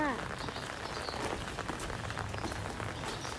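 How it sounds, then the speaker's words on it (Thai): Steady rain pours down on a surface on a rainy school day, a dense continuous patter with a voice speaking over it early on. "วันนี้ฝนตกค่ะ"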